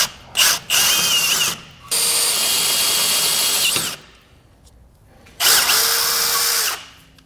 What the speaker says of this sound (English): When drilling these holes, you really want to run the drill bit all the way through the frame.